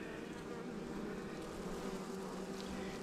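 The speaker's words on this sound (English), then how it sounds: "Yeah, these bees ain't bad here." Honeybees drone steadily at a hive opened for a spring inspection, a dense, continuous buzz of many insects close by with no talking.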